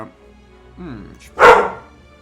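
A dog barks once, sharp and close, after a short whimpering yelp, heard indoors with a quiet room behind it.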